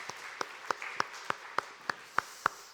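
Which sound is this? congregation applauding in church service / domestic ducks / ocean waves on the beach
congregation applauding in church service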